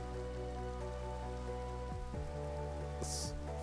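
Steady rain hisses across the whole stretch in Minecraft, a soft even wash layered under sustained background music tones, with no voices.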